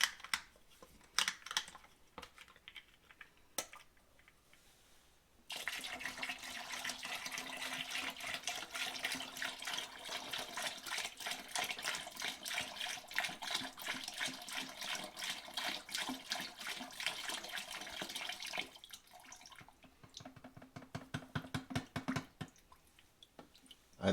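Descaler liquid poured into a bucket during a tankless water heater flush, a steady continuous splashing pour lasting most of the stretch, preceded and followed by quieter handling clatter.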